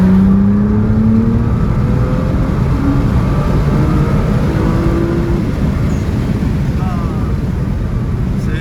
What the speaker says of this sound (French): on entend bien les turbos sur mon côté droit